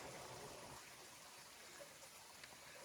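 Water running unseen beneath rocks on a Maine mountain trail, a faint, steady hiss and trickle with no clear breaks.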